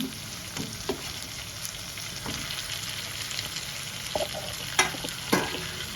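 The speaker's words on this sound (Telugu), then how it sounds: "ఆ మెంతికూరని మిడిల్లో తెచ్చుకొని వేయించుకోండి" Fenugreek leaves and chopped tomatoes frying in a pan, a steady soft sizzle throughout with occasional scraping stirs and clinks of a spoon against the pan.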